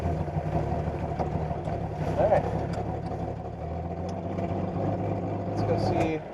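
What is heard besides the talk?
car engine idling, classic car in garage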